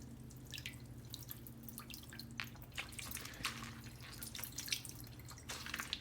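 Water rushes fast through a Sawyer S2 foam water filter from a stout, flexible squeeze bag, a steady dripping, trickling flow with small splashy bursts over a low constant hum, with no talking.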